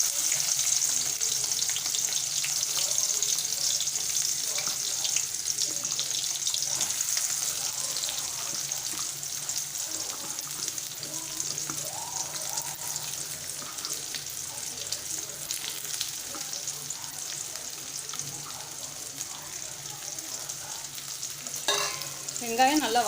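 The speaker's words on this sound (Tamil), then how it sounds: "வெங்காயம் நல்லா வதங்கணும்." Sliced onions and curry leaves fry steadily in hot oil in a kadai, a continuous close sizzle with occasional stirring scrapes throughout, no talking.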